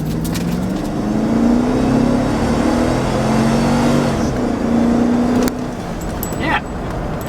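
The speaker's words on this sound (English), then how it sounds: "we're gonna go ahead and do another rip so you can see what the acceleration's like in a stock shorty Escalade" Stock short-wheelbase Cadillac Escalade accelerating hard, a loud close engine roar rising in pitch through the gears, with a shift near the end and no talk over it.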